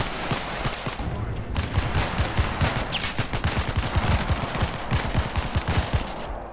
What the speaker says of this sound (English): I took them all out, mate. Three headshots from a shotgun